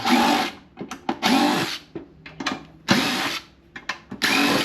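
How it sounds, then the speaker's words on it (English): A power tool gun runs in repeated high-speed bursts of about half a second to a second each, with short pauses and brief blips in between, loud and close, with no talk. "this new gun seems like it's a little faster on the RPM"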